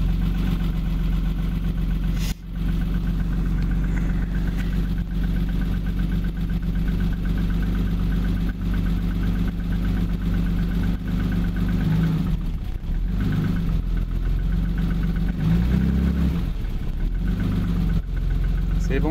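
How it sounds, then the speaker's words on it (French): A car engine settles into a steady, loud idle just after starting, a constant low rumble throughout with slight unevenness, while someone talks over it now and then. "Alors déjà ça fait trop plaisir qu'elle démarre bien"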